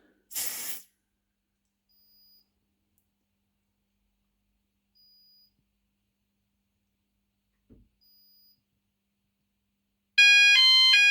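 An EMS 5000 Firepoint home fire alarm system is tested: after a short hiss and a long near-silence, its sounder bursts into a loud, steady electronic tone at the very end.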